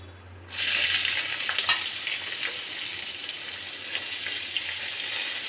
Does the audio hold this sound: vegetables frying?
yes